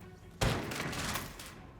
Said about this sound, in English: Now, people might have heard the gunshots.